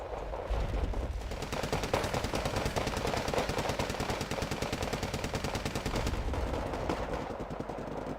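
Rapid anti-aircraft cannon fire from Wargame Red Dragon chatters in a dense, continuous stream of bursts, loud and steady for several seconds with no talk over it.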